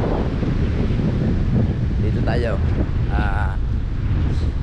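Strong, constant typhoon wind roars and buffets the microphone, with a few brief voices cutting through.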